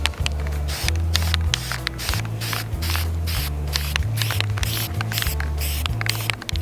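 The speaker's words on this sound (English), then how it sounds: "So we're just gonna begin spraying." An aerosol can of metallic gold spray paint hisses in steady bursts for a DIY hostess gift project outdoors, with brief pauses between sprays and no talking.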